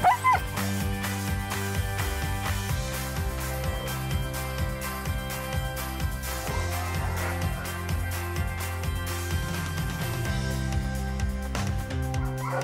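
Sled dogs gathered outdoors bark, yip and whimper almost without pause in an excited, dense chorus, while a person speaks among them.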